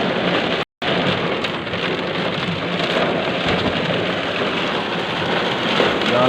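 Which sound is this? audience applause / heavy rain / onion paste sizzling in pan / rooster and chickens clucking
heavy rain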